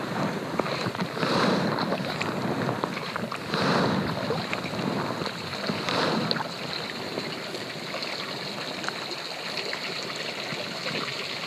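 Kayak paddling on Yellowstone Lake, soft rhythmic strokes and water swishes recurring every couple of seconds, gentle and close against faint lapping water and light wind.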